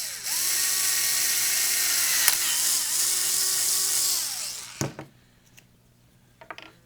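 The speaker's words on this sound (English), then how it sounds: "I'm just gonna drill a hole right into the bobber." A small power drill whines as it bores a hole into a plastic fishing bobber for a homemade catfish rattling bobber, a loud steady motor whir for about four seconds that pitches down under load, then cuts off with a clunk and a few faint handling clicks.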